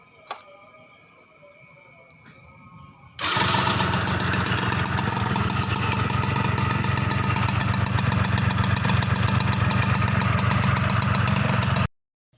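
A Suzuki Tornado GS two-stroke motorcycle engine catches after a few seconds of quiet handling noise, then idles loud and close with a rapid, steady buzzing putter, and cuts off abruptly near the end.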